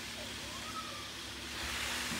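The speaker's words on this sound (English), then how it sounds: "I'm out here watering, son." Garden hose spraying water onto plants outdoors, a steady broad hiss running the whole time and swelling slightly louder toward the end.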